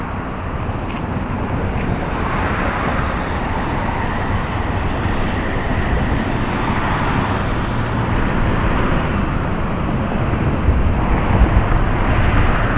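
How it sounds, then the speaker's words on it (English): Heavy street traffic rumbling continuously, with trucks passing by and buses braking, a loud, dense low roar with no pauses, recorded outdoors in Scarborough. "Listen to the noise behind me. The trucks that are passing by, the buses that are slamming their brakes, noise."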